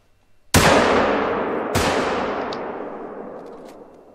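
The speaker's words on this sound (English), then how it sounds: "Oh, he turned just as we shot." Two sharp rifle shots while hunting in The Hunter: Call of the Wild, each a loud, close crack followed by a long rolling echo that fades slowly, the second about a second after the first, with no talk.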